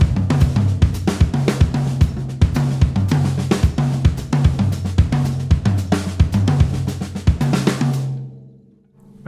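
A full drum set plays a busy groove with a right-left kick pattern and varied fills, dense and loud, with cymbals ringing out as the playing stops near the end.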